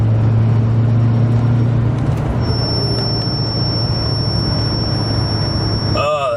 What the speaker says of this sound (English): You kind of hear it when you accelerate some too.